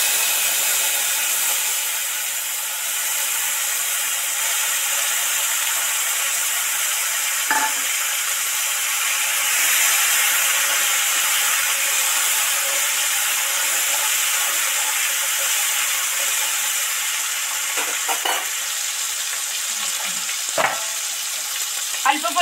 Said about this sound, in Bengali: আদা আর রাঁধুনি বাটা পেস্ট করেছি, সেটাই তেলের মধ্যে দিয়ে দেব